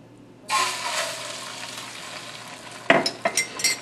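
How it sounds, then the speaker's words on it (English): An egg drops into hot oil in a wok and sizzles loudly straight away, the frying hiss holding steady and then joined by a few sharp clinks of a utensil against the pan, close and without talking. "now we're gonna put the egg in"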